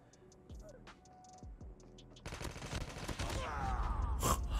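Sustained automatic fire from an AK117 rifle in Call of Duty Mobile, a dense rapid spray that starts partway through and grows louder, after a few sparse game clicks and tones.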